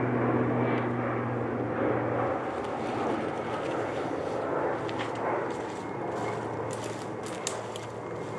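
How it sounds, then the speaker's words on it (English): A fixed-wing airplane passes overhead during a coyote-calling outing, a steady broadband engine drone holding at moderate level throughout, with faint outdoor background and no talking. "we got an airplane flying over now"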